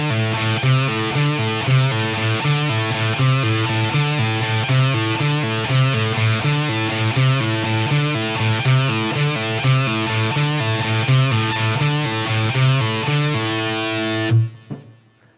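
Distorted electric guitar plays the main riff of a song, a loud, chugging, repeating pattern with steady rhythmic palm-muted hits that rings out and stops abruptly at the end.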